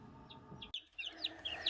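Young Orpington chickens in a brooder give soft, faint clucks and short high peeps, several brief calls scattered across a quiet background.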